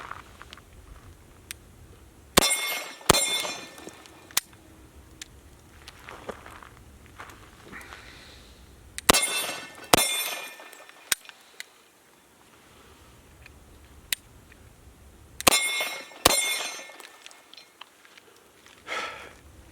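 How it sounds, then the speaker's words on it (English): A double-action/single-action pistol with a decocker fires in pairs of two shots, each pair followed by a decock, giving three sharp crack pairs spaced several seconds apart with quieter mechanical handling between them. "after each time I shoot 2 shots, I decock the gun, take the safety off"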